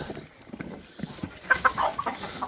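Farm chickens cluck in a few short, close bursts against a quiet yard background, with no one speaking during the clucks.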